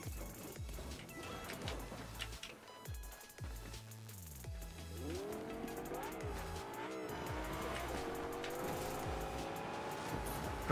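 A car in the video game Fortnite accelerates with engine tones shifting in pitch while its tires squeal and skid. Driving sounds run continuously at moderate loudness.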